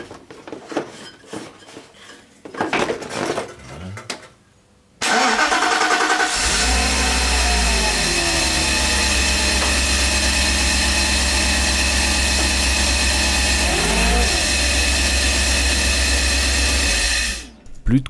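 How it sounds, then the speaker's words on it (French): A Mercedes SL500 with its accessory belt removed cranks and fires up loudly, then settles into a steady close engine idle with a brief rev partway through before cutting off; talk and clatter precede the start. "On va déjà faire un démarrage sans la courroie d'accessoires, histoire de voir si un des périphériques est en cause."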